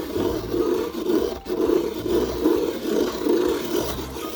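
A pencil sharpener with automatic stopping grinds a pencil, giving a steady, close, rasping whir that pulses in a slow rhythm as the blade turns, with one brief break partway through.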